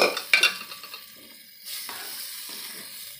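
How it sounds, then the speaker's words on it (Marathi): Cooked whole masoor lentils tipped into a pan and stirred, a couple of sharp clattering scrapes at the start followed by a steady soft sizzle and intermittent stirring, close and fairly quiet. "आणि आपला शिजवलेला मसूर टाकूया"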